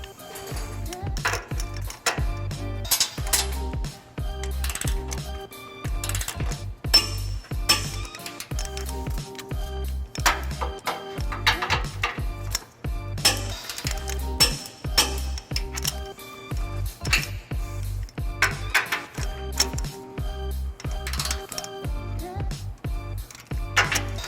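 Nuts on a trailer hitch being tightened on a 2001 Ford E-150 with a 22mm socket and wrench, a steady run of metallic clicks and ratcheting bursts close by with clinks between them and no talking.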